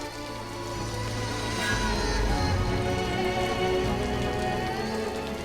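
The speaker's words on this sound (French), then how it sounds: "Il pleut et il fait froid" Rain falls outdoors in a steady, even hiss of patter that swells slightly and then holds, with a faint tonal layer running beneath it.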